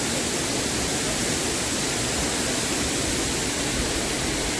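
Abbey Falls, a waterfall in Coorg, roars as a loud, continuous broadband rush of falling water, steady and unbroken with no one speaking.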